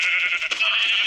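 Sheep bleating in a Minecraft game, one short nasal bleat close and clear with a brief dip midway, with no talk over it.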